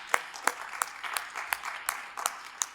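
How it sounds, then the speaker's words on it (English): Scattered clapping from an audience at an educators' hall of fame ceremony, a few distinct sharp claps spaced roughly evenly over a soft, thin bed of applause. "Give her a big round of applause."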